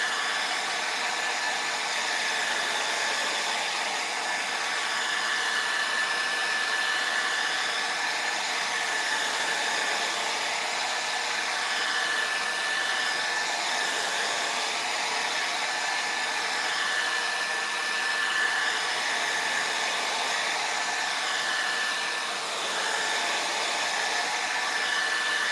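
A hair dryer runs steadily and close for the whole stretch, drying a Thanksgiving table decor craft piece, with a constant loud whooshing blow and a faint high whine, and no talking.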